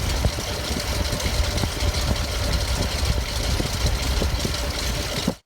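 A rebuilt 1966 Ford Mustang GT V8 idles at operating temperature during timing adjustment, a steady, close, loud lumpy rumble with rhythmic pulsing and slight knocking, cutting off abruptly at the end.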